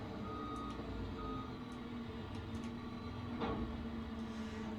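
Truck in Farming Simulator 25 reversing, a steady electronic backup beep repeating over a low engine drone with a faint mechanical hum, no speech present.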